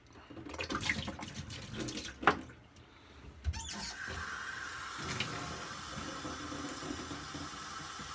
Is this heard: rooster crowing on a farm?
no